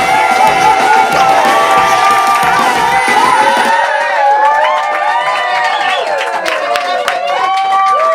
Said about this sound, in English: 2, 1, start applause